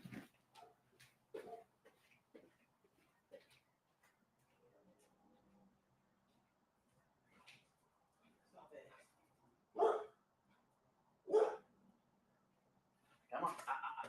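A pit bull barks sporadically indoors, with scattered sharp barks and yips, two louder ones near the end, amid quiet gaps and faint background sounds.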